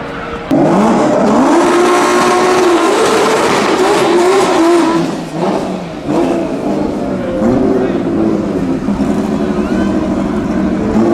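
Loud engine of a 1200+ bhp VW Mk2 Golf drag car roaring and revving at full throttle as it launches with all four tyres spinning, with a rising whine and possible tire squeal, continuous throughout under a crowd or announcer voice.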